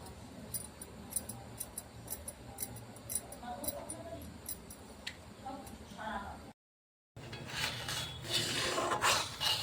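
Milk stirred in a pot for mishti doi gives faint, rhythmic scraping and rubbing of a utensil against the pot, continuing under steady talking.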